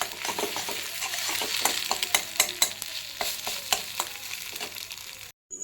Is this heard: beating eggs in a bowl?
yes